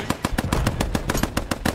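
Machine gun fire in the World War II shooter Post Scriptum, a rapid steady burst of evenly spaced loud shots, close and continuous, with no talk.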